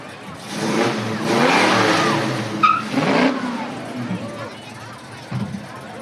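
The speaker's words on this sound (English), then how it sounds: "you hear that engine revving" A classic car engine revs up and roars steadily for several seconds, then eases off, with crowd chatter in the background, on Route 66.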